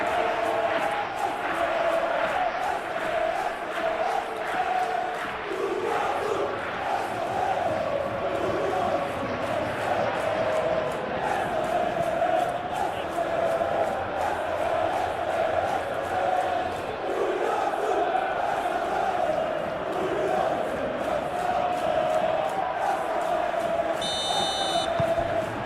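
Simulated stadium crowd from a PES 2021 Champions League match between Benfica and Real Madrid, a steady loud roar with chanting running throughout, with commentary spoken over it.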